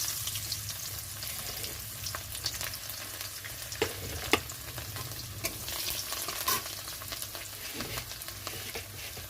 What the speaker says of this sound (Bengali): ওই তেলের মধ্যে দিয়ে দিচ্ছি রসুন